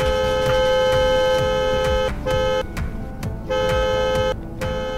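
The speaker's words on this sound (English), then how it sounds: "Let's honk." A 2003 Ford Windstar van horn honks loud and close in long sustained blasts, cutting off briefly a few times near the end, over a running engine.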